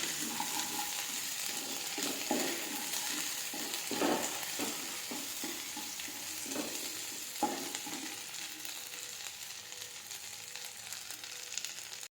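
A pan for egg curry sizzles steadily while a spoon scrapes and stirs ginger-garlic paste, producing irregular knocks and scrapes over a continuous hiss, close and alone.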